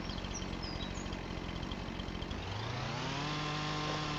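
A chainsaw cuts through deadwood outdoors, its engine buzzing steadily and then rising in pitch as the chain bites and revs, moderately close with faint birds in the background.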